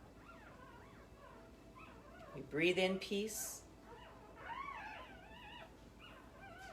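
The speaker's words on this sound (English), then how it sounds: "That is the sound of newborn puppies." Newborn puppies give short, high, squeaky whimpers in a couple of brief bursts, while a calm voice speaks softly around them.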